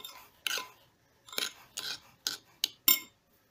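Cutlery stirs sauce into mayonnaise in a bowl, heard as about six short, sharp scraping clinks separated by brief pauses, close and alone.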